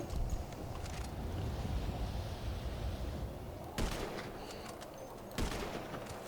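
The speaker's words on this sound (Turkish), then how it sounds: "ya mermiler var ya hep yanından geçiyor böyle kafanın üstünden geçiyor ya" Gunfire in the video game GTA 5 Online is a steady crackling fusillade of shots over a dense background, with two sharper bursts standing out near the end. The shooting is moderately loud and continuous, and nobody speaks.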